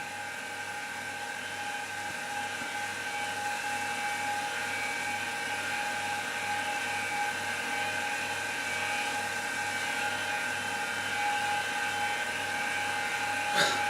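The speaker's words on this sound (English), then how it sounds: "That sure as hell don't sound like a modern drive." An old Apple II hard drive spinning up, a steady high whine with tonal hum, constant and fairly faint, no talk.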